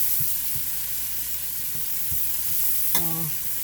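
Kale sausage and vegetables sizzle in a stir fry, a steady frying hiss with a few soft stirring knocks and a short clatter near the end, no talking.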